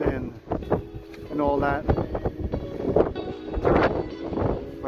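Strong desert wind buffets the microphone in heavy, uneven gusts while people talk over it.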